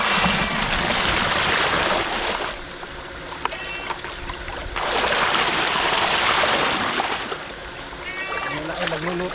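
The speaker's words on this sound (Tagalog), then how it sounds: "malakas po yung patubig namin" Strong irrigation water rushes in a loud, steady stream that surges and eases in waves, with faint bleating-like calls and a few voices in the background.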